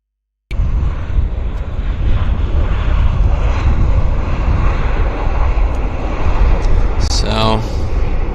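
An aeroplane landing at Vancouver Airport (YVR) on runway 08, a loud sustained engine roar close by with a rising whine near the end, voices talking over it.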